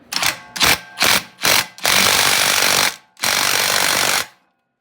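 A power tool tightens a part on an engine, likely an impact tool, in four short bursts followed by two longer sustained runs, loud and close with brief pauses between, no talking.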